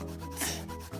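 Pencil scraping on sketchbook paper while drawing an animal, a short close rubbing stroke, soft and dry, alone without talk.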